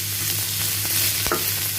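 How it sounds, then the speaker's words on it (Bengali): Onion, chilli and carrot fry in a small amount of oil, giving a steady, close hiss of sizzling with an occasional scrape of stirring and no talk. "আমি এখানে পেঁয়াজ, মরিচ আর গাজরটাকে হালকা তেলের মধ্যে এই যে ভেজে নিচ্ছি"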